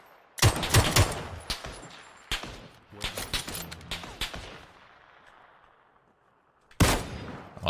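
Kar98 rifle gunshots in PUBG: several sharp, loud cracks come in irregular bursts, with quieter gaps and one strong final shot.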